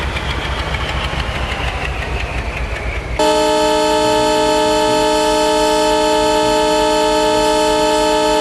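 A goods train locomotive shunting engine in the Indian Train Simulator game, hauling oil tankers, rumbles with a rising whine, then abruptly switches to a loud, sustained tonal drone.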